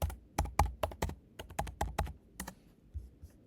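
Rapid keystrokes on a computer keyboard while an address is typed in, a close, crisp series of irregular clicks in quick bursts with a short pause before a few final taps.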